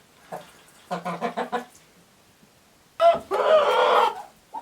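Chickens and ducks in a farmhouse coop give bursts of clucking and squawking: a short call, then a quick run of clucks, a pause, and a louder stretch of overlapping calls, all fairly close.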